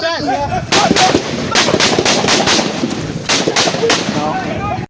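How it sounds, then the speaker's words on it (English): Repeated loud gunshots fired by civilians at police crack out in irregular bursts, close by, over a noisy crowd and wind buffeting the microphone, in Edo State, Nigeria. "Then we had gunshots from civilians"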